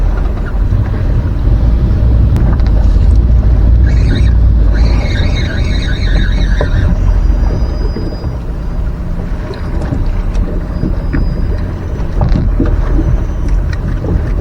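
Strong wind of about 25 mph buffets the microphone on a small fishing boat in rough inshore water off Panama City, a loud, steady roar broken by hull slaps and water splashes throughout.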